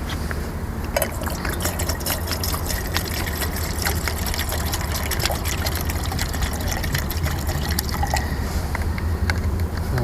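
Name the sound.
water poured into a camping pot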